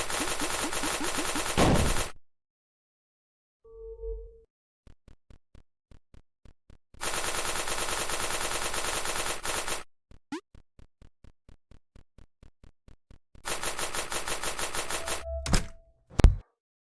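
Automatic rifle fire in the video game Level Devil, heard as loud bursts of rapid shots separated by silences, with sparse single clicks and short electronic tones between the bursts.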